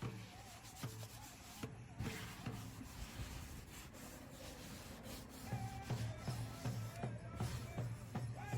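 Hand sanding of a wooden memorial surface, a steady rubbing scrape with rhythmic strokes, moderately close and fairly quiet against a busy background of outdoor noise.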